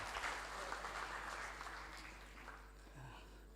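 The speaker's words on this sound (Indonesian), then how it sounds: "Tepuk tangan." Faint clapping from a crowd at a formal government farewell and welcome ceremony, a dense patter that gradually thins out and fades.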